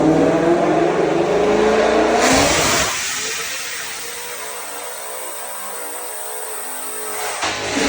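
Black Ford Shelby GT350 making pulls on a dyno: a loud, near engine revs hard for about three seconds, then drops to a lower idle-like drone that trails off before a brief blip at the end.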